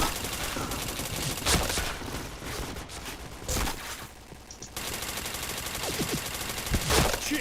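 Dense bursts of gunfire from a shooting video game, rapid fusillades with brief pauses between volleys, loud and close, with faint game sounds underneath.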